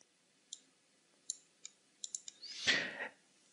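Faint, crisp single clicks from a computer mouse tick out at irregular intervals during drag work in Revit modelling software, ending in a soft rustling sweep.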